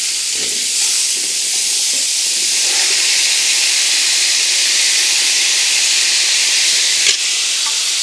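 Poppy seeds hit hot oil with potatoes in a pan, giving a strong, even sizzling hiss that runs on steadily, with a few faint clinks of stirring and no talk.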